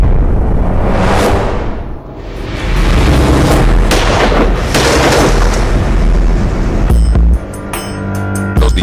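Gunshots in a dramatized reenactment of hired assassins attacking a Chilean Christian Democrat opposition politician and his wife: several loud, booming broadband bursts with a rumbling tail, spread across the scene.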